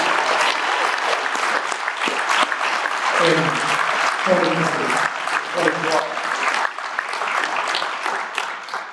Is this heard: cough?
no